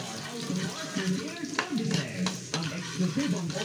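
Onion and garlic sauté in a pan for fried rice, a continuous close sizzle broken by repeated scraping stirs of a utensil against the pan.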